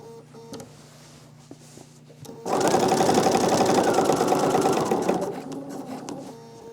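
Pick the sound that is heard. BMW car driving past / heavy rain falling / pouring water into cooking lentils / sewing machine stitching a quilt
sewing machine stitching a quilt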